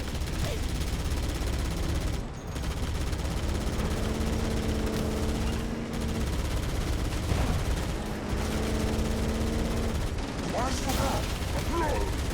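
Distant bursts of gunfire in Halo crackle through a dense, constant battle ambience with mechanical hum, while soldiers' voices call out at moments.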